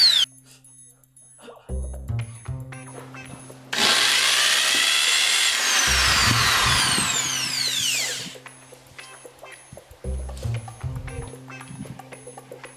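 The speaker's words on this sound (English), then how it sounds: "I'm not using nails, I'm using a screwdriver" A power screwdriver drives screws into wood. A sustained loud whir rises and falls over about four seconds, with shorter motor bursts before and after and brief clunks between them.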